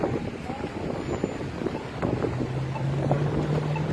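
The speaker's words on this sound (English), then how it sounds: "A little bit windy today for a little bit." Wind buffets the microphone in a steady low rumble throughout, with faint traffic-like hum and scattered bumps outdoors at a street protest in Warminster, Pennsylvania.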